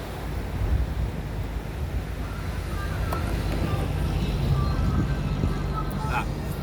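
A beach with continuous, rumbling surf and gusting wind buffeting the microphone, forming a dense, steady wash of noise throughout, with passing traffic faintly in the background.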